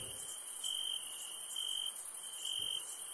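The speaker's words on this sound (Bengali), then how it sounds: "চারিদিকে অন্ধকার, ঝিঝি পোকা ডাকছে।" Crickets chirp at night near a dark railway platform, a steady high trilling pulse in repeated bursts, moderately loud and continuous with no other sounds.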